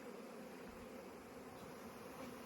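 A honey bee swarm flying in near a beehive, with a dense continuous buzzing hum from many bees, steady and fairly close with no talking.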